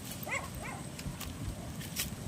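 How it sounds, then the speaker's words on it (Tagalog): A dog barks a couple of times at a distance on a rural vegetable farm, faint yelps over outdoor background noise. "Ingay yung aso yun."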